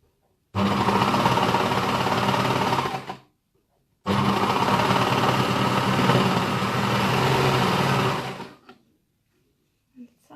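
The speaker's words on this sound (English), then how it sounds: "I just hold it until it's lined up and I sew" A sewing machine stitches a leg band in two sustained runs of steady, fast motor-driven whirring, close and loud, separated by a brief pause, then stops into near silence.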